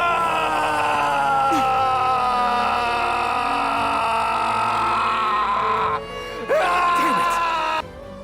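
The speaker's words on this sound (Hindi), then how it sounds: "उसकी हमें बहुत ही मतलब इमोशनल चीख सुनाई देती है" An anime character from Tower of God lets out a long, strained emotional scream that rises and wavers, sustained loudly over several seconds before breaking off.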